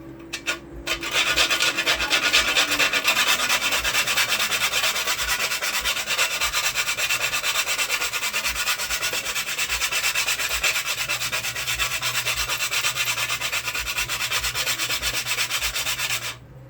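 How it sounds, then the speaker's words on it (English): A whole nutmeg is grated on the fine side of a grater over rice, giving a continuous dry rasping scrape that is steady and close for most of the clip, with no talk. "I'm gonna grate half of this nutmeg into this rice using the fine side."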